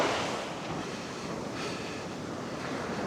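Wind rushes across a North Sea beach between the North Sea Observatory and Anderby Creek, a broad steady roar buffeting the microphone with surf blended in, fairly faint and unbroken.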